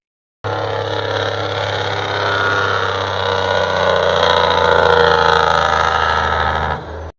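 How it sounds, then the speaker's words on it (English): A Cummins diesel truck's Jake brake fires through unmuffled chrome stacks in one sustained, loud, rapid machine-gun rattle and bark lasting several seconds, close and alone before cutting off. "when the Jake brake went through those unmuffled stacks, the sound becomes something else entirely"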